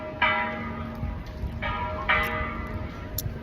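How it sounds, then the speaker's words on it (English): Church bells ring in Querétaro near a museum in a former convent: a few spaced, loud strikes with long ringing tails, heard over steady street background noise. "Still ringing those bells."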